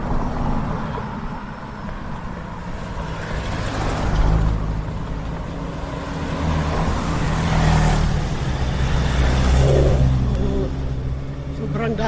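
Road traffic rolls past on a hillside road, cars and trucks swelling and fading as they go by, with engines revving and a person talking now and then.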